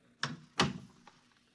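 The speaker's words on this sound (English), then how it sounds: "Close the door behind you." Door closing in a retro sci-fi radio drama: two solid thunks in quick succession, the second louder with a short decay, then a faint click, with no talk over it.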